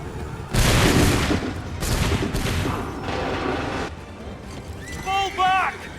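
Volley of musket fire in the video game Assassin's Creed 3, a dense loud crackling fusillade that rolls on in waves for several seconds, with shouted voices and a brass horn call near the end.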